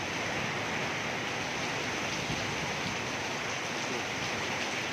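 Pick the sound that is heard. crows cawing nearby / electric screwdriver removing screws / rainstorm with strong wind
rainstorm with strong wind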